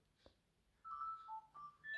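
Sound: mobile phone ringing

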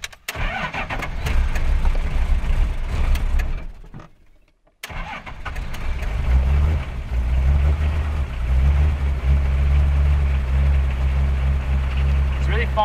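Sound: Toyota HJ47 Troopy engine starting and revving on cold morning

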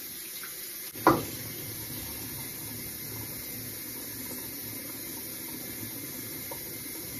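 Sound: water rinsing something off

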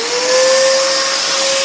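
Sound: dust extractor switched on at scroll saw

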